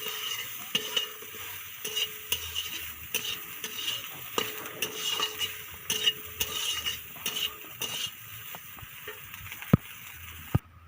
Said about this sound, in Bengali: ভিজিয়ে রাখা সোয়াবিন হালকা করে ভেজে নেব নুন হলুদ দিয়ে